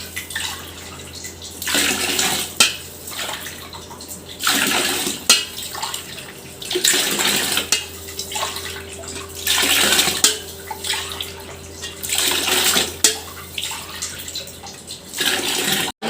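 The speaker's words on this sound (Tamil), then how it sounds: "நான் அதே மாதிரி தான் வந்து தண்ணி கணக்கு பண்ணி ஊற்றிட்டுருக்கேன்." Water poured in repeated bursts into a large cooking pot while making chicken biryani for fifty people, each pour rushing and splashing for a second or two before brief pauses, steady and close.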